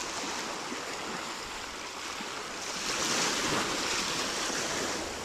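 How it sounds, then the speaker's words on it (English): Ocean surf washes ashore at the Pelayo Street beach access on 30A, a steady, close, full roar of breaking waves with some wind, swelling slightly louder partway through, with no voices. "This is the Pelayo Street beach access on 30A."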